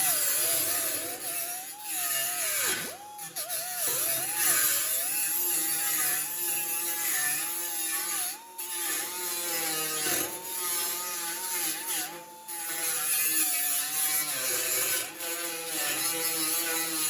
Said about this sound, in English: So now I'll come back and I'll grind this area down a little bit more.